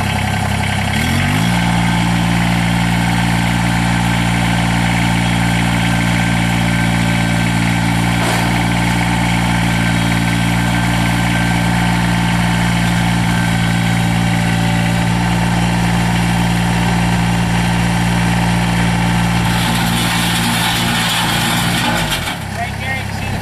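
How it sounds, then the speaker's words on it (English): A 2012 Kubota BX2660 diesel sub-compact tractor with loader and belly mower starts up and idles steadily for about twenty seconds, a loud continuous diesel rumble close by before shutting off near the end. "We're going to go ahead and fire this tractor up."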